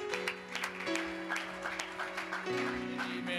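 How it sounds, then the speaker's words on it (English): A church congregation claps along over sustained organ or keyboard chords, with scattered, uneven hand claps at a moderate distance. "Let's clap unto the Lord"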